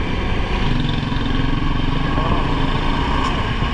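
Motorcycle engine droning loud and close on a road along the Bataan Loop in the Philippines, a continuous rough rumble with steady rhythmic pulsing, a voice speaking faintly beneath it.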